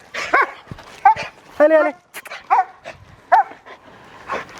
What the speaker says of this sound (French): Buck, c'est un chien d'à peu près 5-6 ans.